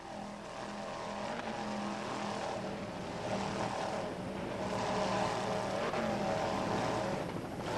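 A Fountain racing boat runs on local waters in Chicago during a 1991 race, its engine a steady, loud, droning roar that swells slightly and holds for the whole stretch, with no voices.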